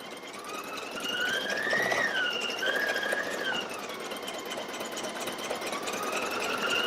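A Pfaff Creative Icon 2 embroidery machine stitching dragonfly wings in teal thread hums with a steady motor whine that rises and dips in pitch as it runs, close and moderately loud, with no voices.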